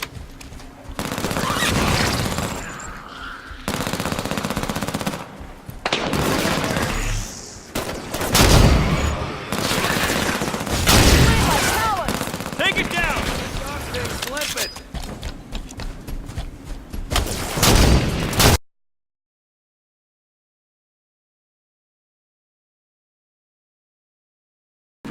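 Rapid automatic gunfire bursts from the Halo 5: Guardians video game, loud and dense, with repeated volleys and heavy thuds over about eighteen seconds before cutting to silence.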